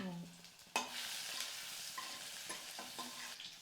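Mustard seeds crackle and pop in hot oil close by, with sharp sizzling bursts and a stirring clatter after a brief low hum at the start.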